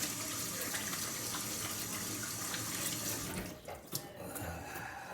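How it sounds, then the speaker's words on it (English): Hands are washed under a running kitchen tap. The water rushes steadily and close, then briefly splashes and breaks up as the hands move through the stream. "Now to wash my hands."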